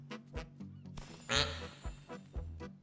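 A person mimics a duck's quack during a Dead by Daylight gaming session, a few short nasal honking bursts spaced irregularly, close and fairly loud, with other voice noises around them.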